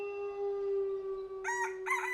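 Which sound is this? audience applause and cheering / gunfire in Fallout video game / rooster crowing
rooster crowing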